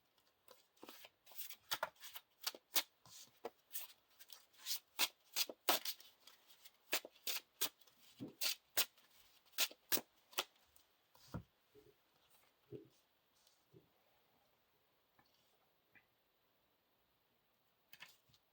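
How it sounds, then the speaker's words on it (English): Cards from a Lord of the Rings living card game are shuffled into a player's deck, making a long series of quiet, close, sharp flicks and riffles that gradually thin out and stop. "we're going to shuffle the heightened statue into the first player's deck."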